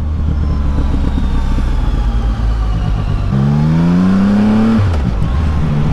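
Close, loud CF Moto 675 NK motorcycle with a stock inline engine: a rough idle, then one sharp rev that climbs in pitch and falls back off near the end.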